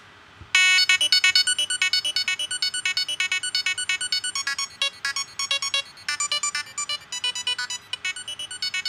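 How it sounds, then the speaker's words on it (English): A synthesizer arpeggio ringtone built in Logic Pro 9 plays rapid, evenly spaced bright tonal notes in a repeating pattern after a brief pause, loud and clean with nothing else underneath. "I'm going to show you an arpeggio I'm using for a ringtone I'm making personally during my spare time."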